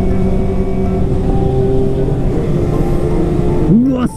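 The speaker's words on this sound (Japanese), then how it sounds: "このトンネルでちょっと吹かしてみて" A motorcycle engine drones and revs inside a road tunnel on a ride through Okutama, with a loud, steady humming tone that echoes. A voice briefly cuts in near the end.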